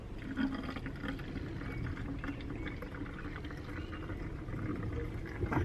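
Vinegar being poured into a bottle already holding washing up liquid, a soft steady gurgling trickle of liquid filling the container, close and quiet with no talk.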